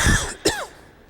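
Two sharp coughs from one person close by, a harsh burst at the start and a shorter second one just under half a second later, then quiet.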